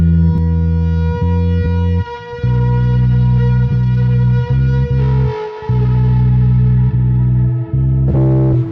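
A distorted bass riff played through an amp cabinet, steady repeating notes with brief gaps, loud and full, a brighter burst at the end.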